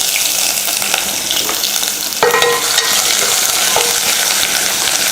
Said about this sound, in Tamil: கொஞ்சம் கருவேப்பிலை, 4 பூண்டு பல்லும் ஒரு இஞ்சி துண்டையும் இந்த மாதிரி தட்டி எடுத்து வச்சுருக்கேன், அதை இதில் சேர்த்துக்கலாம்.